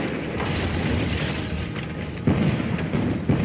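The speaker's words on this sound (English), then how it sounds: "Tree bursts, mortars," Tree bursts and mortar explosions in a snow-covered forest during wartime fighting, heavy continuous booming and rumbling with sharper blasts breaking through near the start and late in the stretch.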